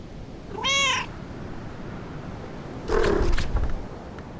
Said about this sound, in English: I could pick up the cat, which is in the music room.